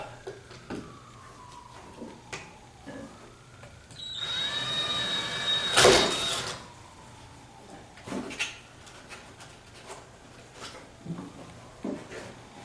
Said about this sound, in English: Drill the other hole.